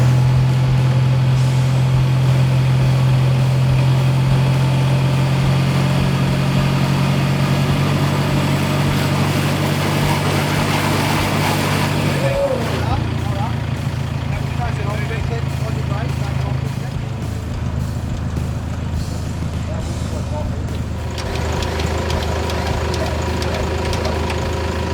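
A 4WD's engine runs steadily while winching up a steep hill on the Spanish Steps track near Lithgow at night, a loud low drone that shifts in pitch midway, with voices in the background.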